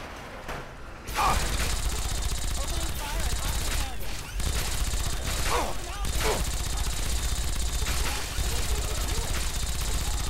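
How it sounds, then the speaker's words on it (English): Rapid, continuous automatic gunfire from the game Fallout 3 as enemies are shot, a dense mechanical rattle that runs almost unbroken for about nine seconds, loud and close, with a few brief accents layered over it. "I'm shooting the enemy."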